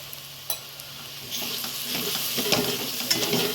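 Turmeric, coriander powder and chilli powder are stirred in a hot pan for dal khichda: quiet at first, then a steady close sizzle with repeated scraping strokes of a spoon.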